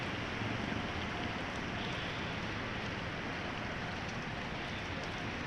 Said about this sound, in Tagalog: Mayaman na ulan.